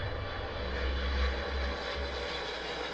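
A McDonnell Douglas DC-4 propeller airliner drones steadily with a low, throbbing engine rumble and broadband roar, loud and continuous, with no voices.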